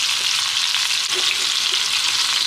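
Chicken thigh fries in a pan with a loud, steady, crackling sizzle throughout, close up and uninterrupted, with no voices.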